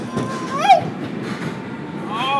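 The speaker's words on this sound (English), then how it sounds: "keep our arms and legs inside the train at all times." An amusement ride train rolls along its track with a low rumbling clatter and squeal, while people talk and call out over it.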